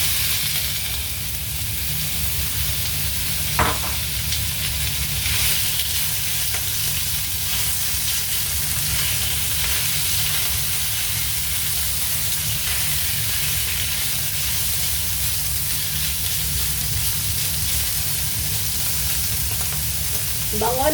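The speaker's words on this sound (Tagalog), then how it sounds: "Then, maglalagay tayo ng luya. So, ipiprito natin yung ating sahog." Ginger and other ingredients fry for a mung bean dish in a steady, loud, close sizzle that runs throughout, with a couple of brief stirring clinks.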